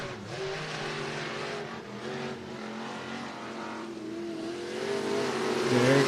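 Dirt track race cars circling the oval at Cottage Grove Speedway in Cottage Grove, Oregon, with a steady, loud engine roar and revving that swells louder toward the end, heard without talk.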